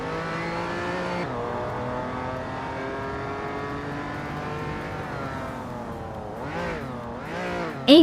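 A 1995 Ferrari F50 engine in a racing video game holds a steady high drone, then swells through two quick revving surges near the end, loud and alone with no talk.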